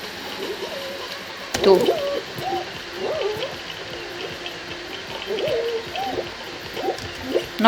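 In the Fall Guys video game, a bird hoots in repeated soft, owl-like calls scattered across the scene, faint over background game ambience, with a sharp thud partway through.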